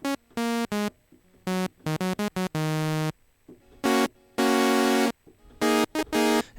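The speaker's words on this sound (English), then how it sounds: "what you're hearing is the Nord, and it's being run through the Virus." Nord synthesizer fed through an Access Virus KC for serial distortion, playing bright, buzzy harmonic-rich notes in short staccato stabs and longer held tones, with sustained chords near the end, loud and alone.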